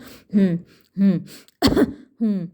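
A voice imitates coughing and throat clearing in four short, separate bursts, with brief pauses between each.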